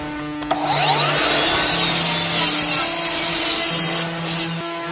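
Hand saw cutting through a board in a woodworking shop, a loud, close, continuous rasping stroke lasting several seconds, with a faint hum underneath.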